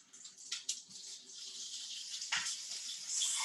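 Frozen food sizzling in hot avocado oil in a pan, a steady hiss with a few louder crackling bursts as pieces go in.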